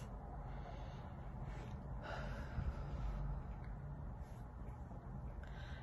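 One quiet, slow, deep breath is drawn in and let out in a hushed room, soft and unhurried, with no speech.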